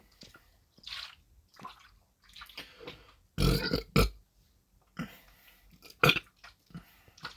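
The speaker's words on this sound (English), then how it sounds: "Sorry, I had to burp." A person burps once during a Minecraft horror map playthrough, a loud close belch under two seconds long, surrounded by faint mouth clicks and small quiet noises.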